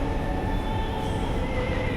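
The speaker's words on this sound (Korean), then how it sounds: "도착한 게 아니라 기차가 왔습니다" A train pulls into a station in Northern Europe on the line from the airport into the city: a loud, continuous rumble with steady whining tones, close by and with no talking.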